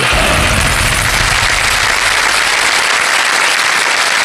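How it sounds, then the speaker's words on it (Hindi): A studio audience on a television quiz show bursts into loud, dense applause that fills the room continuously, close and without talk, as a contestant wins a prize. "तालियों के साथ इनका अभिनंदन कीजिए।"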